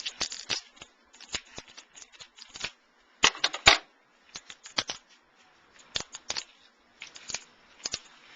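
Scissors cutting into hard lobster tail shells in a test kitchen: irregular bursts of sharp, crunchy snips and cracks at close range, fairly quiet, with brief pauses between cuts and no talk.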